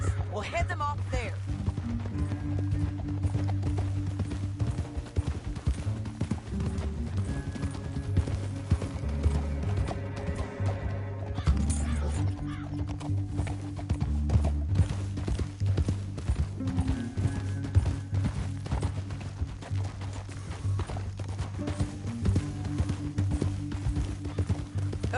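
Horses clip-clop at a steady gallop along a canyon trail, hoofbeats running continuously over a low rumbling score, with brief voices now and then.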